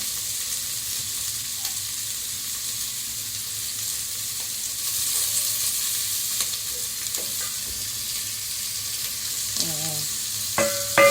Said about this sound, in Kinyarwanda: nanjye igitunguru na pavuro nanjye nabyo mbishyiremo kugira ngo bibanze bifate amavuta